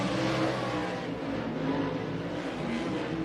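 A pack of 360 winged sprint cars races on a dirt track at Deuce of Clubs Thunder Raceway in the desert, making a continuous loud engine roar that swells and fades slightly as the cars go by.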